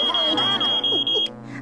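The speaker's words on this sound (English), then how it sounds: "It's a smoke alarm." A smoke alarm gives a loud, steady, high-pitched beep that holds for just over a second and then cuts off, with voices talking over it.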